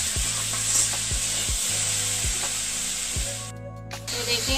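Vegetables for rolls frying and spattering in a pan, a constant loud hiss with a low rhythmic scraping knock repeating every second or so, close by, no talking.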